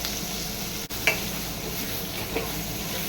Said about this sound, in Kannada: ನೀವು ಆಯಿಲ್ ಹಾಕೊಂಡು ಚೆನ್ನಾಗಿ ಫ್ರೈ ಮಾಡ್ಕೋಬೇಕು.